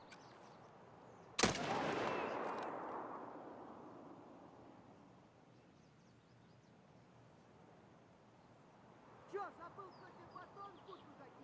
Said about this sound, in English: With that nade going off, we know that the individuals has jumped over